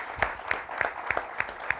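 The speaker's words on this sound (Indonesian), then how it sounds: "Tepuk tangan dulu dong" A few pairs of hands clap in a slow, evenly spaced rhythm for guests at a church broadcast, about six distinct claps, moderately loud against a quiet room with no talking.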